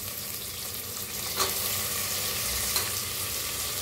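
Peanuts and peas fry in oil inside a pressure cooker for masale bhat, a dense, continuous sizzle close by with a couple of faint stirring clicks and no talk.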